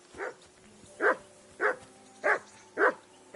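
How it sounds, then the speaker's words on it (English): A dog barks in the medieval video game Kingdom Come: Deliverance 2, five sharp, evenly spaced barks at moderate distance with no other voices. "I assume you can hear that damn dog of yours barking."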